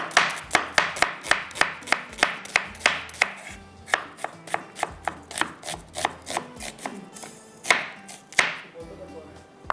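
Onions being chopped with a knife on a board, a fast steady run of sharp close knocks, about thirty cuts with a brief pause near the end, no talk over it.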